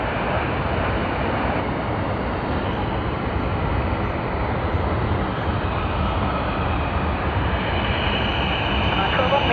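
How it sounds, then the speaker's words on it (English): A Qantas Airbus A380, flight QF82 in from Singapore, arrives at Sydney Airport with a loud, steady, broadband jet roar that holds without a break for the whole stretch. "we have the A380 of Qantas QF82 that's come in from Singapore Changi International Airport"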